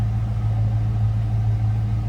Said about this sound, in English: Sounds as you would expect a 5-liter in a Fox body to sound.